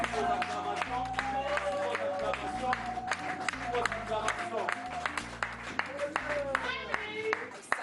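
Crowd applause with scattered cheering rises over loud music with a steady beat, clapping blending into the busy mix throughout.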